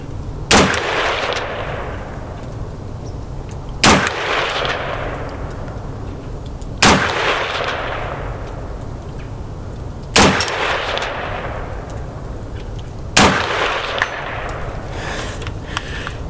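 A Colt XM177 carbine built with 1969 surplus parts fires single shots at an outdoor range, five sharp cracks spaced about three seconds apart, each followed by a ringing echo.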